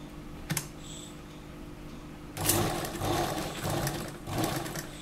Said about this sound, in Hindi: अब हम यहां किनारे किनारे सिलाई लगाएंगे।